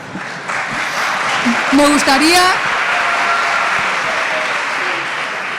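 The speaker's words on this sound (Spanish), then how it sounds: "no podéis aplaudir cosas obvias" Audience applause fills a debate hall, loud and sustained, a brief voice cutting in partway before the clapping trails off.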